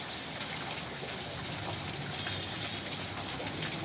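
Water gushing out of a newly drilled borewell at a home, a steady, loud broadband rush like heavy rain that holds without a break.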